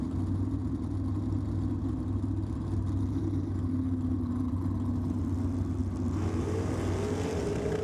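Big block Chevy rear-engine dragster at a drag racing championship, launching from the start line with tyre shake. A loud, sustained engine roar fills the whole stretch, rising in pitch near the end.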